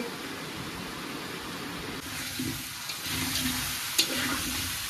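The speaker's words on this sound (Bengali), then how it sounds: "কড়াইতে আলু দেওয়ার পরে এমন আওয়াজ, মনে হচ্ছে ঝমঝমিয়ে বাইরে বৃষ্টি শুরু হয়েছে" Potatoes sizzle in hot oil in a wok for a vegetarian potato curry, a continuous dense hiss like rain that swells louder partway through, with a sharp clink near the end.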